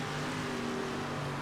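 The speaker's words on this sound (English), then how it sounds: "Another lap car coming up." A sprint car engine drones steadily in World of Outlaws dirt racing, a faint, constant buzzing tone of a lapped car running close by with no clear pass peak.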